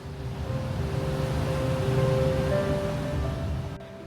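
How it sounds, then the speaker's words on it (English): A steady broadband roar of Ginga and Ryusei Falls in Daisetsuzan, Hokkaido, continuous and fairly loud, with faint tonal hum in the background and no speech. "the two waterfalls drop side by side into the valley below"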